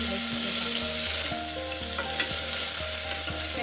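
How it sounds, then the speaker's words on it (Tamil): Chopped onions sautéing in hot oil with fennel seeds, mustard seeds and fresh curry leaves, a close, steady loud sizzle with a spoon stirring and knocking against the pan at irregular intervals. "வெங்காயம் நல்லா ப்ரௌன் கலரில் வதங்கணும்"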